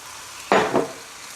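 Crêpe batter pours into a hot pan and meets it with a sudden sizzle. The hiss comes in two quick bursts and fades within half a second, close and without talk.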